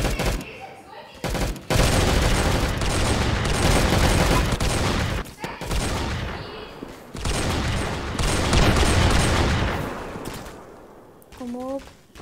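An M4A1 rifle fires in a Roblox war game, with long loud bursts of rapid automatic gunfire broken by short pauses and a few quieter gaps.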